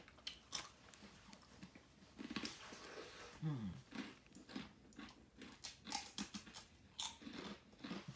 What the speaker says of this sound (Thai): กรอบกรอบนะคะไม่แข็งมาก